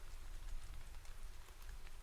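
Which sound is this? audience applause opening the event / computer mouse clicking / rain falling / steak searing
rain falling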